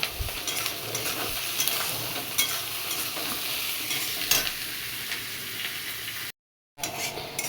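Onion, garlic, ginger and green chilli frying in a pan while being stirred, giving a steady close sizzle with scraping stir strokes throughout and a brief silent gap near the end.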